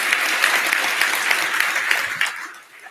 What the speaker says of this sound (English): Let's kick things off with a big round of applause for Cristiano and his cabinet